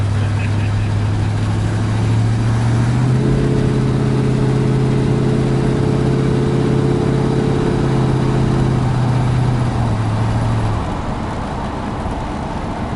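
A 1936 Chevrolet pickup with power steering drives along, its engine giving a steady, loud low drone that rises in pitch partway through before easing back near the end.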